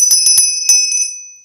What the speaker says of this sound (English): And this is a bell.